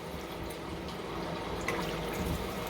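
Water poured from a cup into a cooking pan as the base for sugar syrup for shahi tukda, a steady broadband splashing stream lasting a few seconds with a slight surge near the end, no voices.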